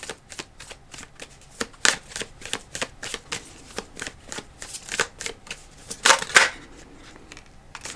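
A deck of Animal Apothecary cards riffled and shuffled by hand, a close, crisp run of rapid flicks and snaps with a few louder bursts near the end, no talking.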